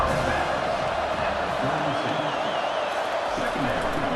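Football stadium crowd roaring steadily on a big third down as Penn State's defense faces Maryland, a loud sustained wash of cheering under a broadcaster's commentary.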